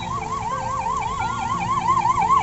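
A loud ambulance siren wailing in rapid, repeating rising-and-falling sweeps, with traffic rumble underneath, amid Durga Puja crowds in Cuttack.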